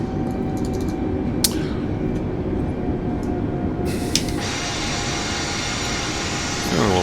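An Airbus A320neo taxis at LAX in Microsoft Flight Simulator, giving a steady, loud engine rumble and hiss with a couple of faint clicks over it.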